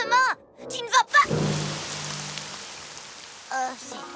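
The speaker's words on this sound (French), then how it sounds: "Rainbow Dash, c'est quoi cette pluie?" Cartoon rain of chocolate milk pours down as a steady broadband patter, starting abruptly after a few short voiced exclamations and continuing under a brief line of speech near the end.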